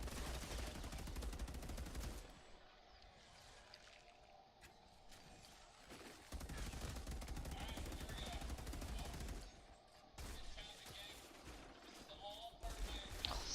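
Enemy gunfire in the video game Outriders, sustained loud bursts of shooting in two long stretches with a quieter gap between, voices talking over the combat.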